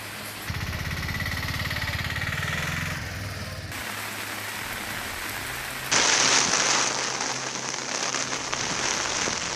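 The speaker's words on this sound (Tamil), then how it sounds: "நீலகிரி மாவட்டம் பந்தலூர் சுற்றுவட்டாரத்தில் இடைவிடாது பெய்யும் மழையால் இயல்பு வாழ்க்கை பாதிப்பு" Continuous heavy rain pours down around Pandalur in the Nilgiris, a dense steady hiss that grows slightly louder and brighter partway through, with no voices heard.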